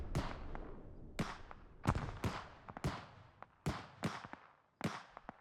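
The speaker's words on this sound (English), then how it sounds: "With an explosion like that, there's no way." Explosions in the military game Arma on the island of Altis, heard as a quick run of sharp, booming blasts, roughly eight over several seconds, each decaying into a short rumble, with no talk.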